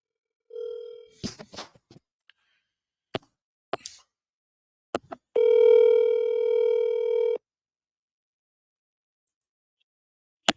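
A telephone call to an agent rings out: a short tone, a few clicks, then a single loud ringback burst of about two seconds, followed by silence and faint clicks.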